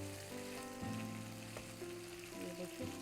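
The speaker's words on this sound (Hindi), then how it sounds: "तो हमें इसको भूनना होता है अच्छी तरह से।" Jackfruit (kathal) pieces frying in oil in a pan, a faint steady sizzle with low tonal hum running throughout, no talking.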